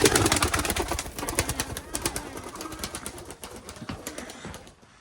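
Pigeons in a coop coo and flap their wings in a dense, busy flutter, close and fairly loud, with sharp wingbeats and shuffling throughout before the activity thins toward the end.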